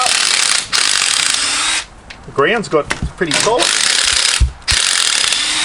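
A rattle gun drives tent pegs into hard, solid ground at a camping setup with a 270-degree awning, giving loud, close, sustained ratcheting bursts broken by short pauses while someone talks briefly in between.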